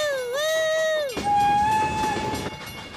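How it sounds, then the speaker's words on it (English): Cartoon train whistle blowing a long gliding note, then a steady high hoot over rumbling, clattering train noise as the locomotive rolls close by, loud and alone. "Here comes the train."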